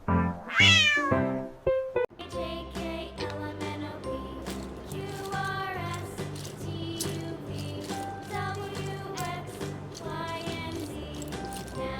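A high, drawn-out meow, likely a voice imitating a cat, rings out briefly before a bouncy musical backing takes over.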